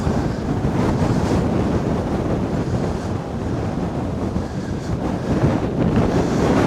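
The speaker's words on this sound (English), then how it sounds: "I think the old wind's getting up a bit" Wind gusts across the open bank of the Ancholme at Bishopbridge, a dense, continuous roar buffeting the microphone at a steady loud level with no speech.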